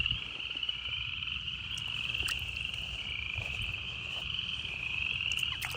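A chorus of southern leopard frogs croaks continuously outdoors at an old farm, a dense, steady rattling call over a soft insect hum, with no voices.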